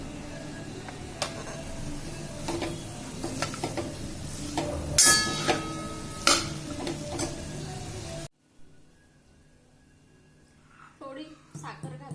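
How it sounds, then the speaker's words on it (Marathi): Khoa and sugar stirred in a pan over low heat, soft scraping and sliding strokes repeating at a steady pace under a voice, then falling quiet near the end with a few faint scrapes. "हा खवा साखर घातल्यावर सतत हलवत राहायचं आणि मंद गॅसवरच हलवायचं आहे"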